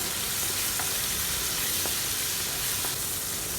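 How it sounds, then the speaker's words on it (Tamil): Chopped tomato, small onions and garlic sautéing in hot oil for a Tamil sundakkai kulambu, giving a steady close sizzle and frying hiss throughout, with a few faint stirring taps against the pan. "தக்காளியை நல்லா கூட்ட வர வரைக்கும் வதக்கி விட்டுறலாம்"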